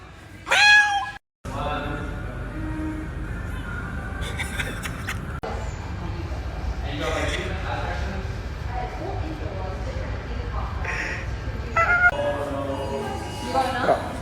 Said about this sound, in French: Il y a des chats de partout.